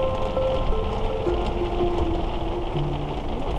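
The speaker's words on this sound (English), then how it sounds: "Rain's still coming down pretty hard though" Steady, dense rain pouring down on an RV during a severe storm without a break, a constant wash of noise with no voices.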